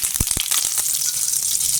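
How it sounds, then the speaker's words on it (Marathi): Curry leaves hit a spoonful of hot oil in a pan while a Koli-style ghol fish curry is made, giving a loud close burst of crackling sizzle with a few sharp pops at the start, then steady frying hiss. "कढीपत्ता टाकायचा"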